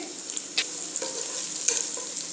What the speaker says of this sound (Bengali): এখন আমি পেঁয়াজ দিয়ে দিব কাঁচামরিচ দিয়ে দিচ্ছি